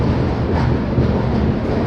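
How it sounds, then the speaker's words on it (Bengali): The Chambal Express rolls on after leaving Jhansi station, filling the carriage with a loud, steady, close rumble and rattle that carries on without a break. "ফাইনালি ঝাঁসি স্টেশন থেকে আমাদের ডিপার্চার হয়ে গেছে"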